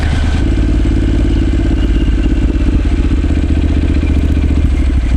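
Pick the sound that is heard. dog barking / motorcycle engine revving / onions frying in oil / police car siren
motorcycle engine revving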